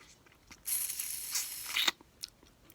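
Boiled peanut shell, hot and spicy style, cracked open at one end by hand: a single close, crisp, wet crackle lasting about a second, followed by a few faint snaps.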